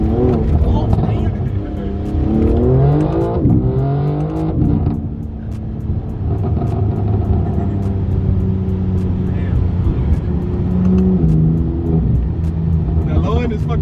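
A BMW M4 xDrive launches in first gear, its engine rumbling and revving in rising sweeps heard from nearby while people talk over it throughout.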